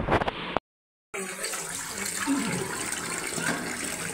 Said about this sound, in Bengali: মাংসগুলো ভালো করে ধুয়ে নেবার